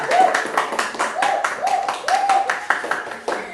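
A sixth-grade elementary school class in Indonesia claps in rapid, rhythmic bursts while voices call out over the clapping.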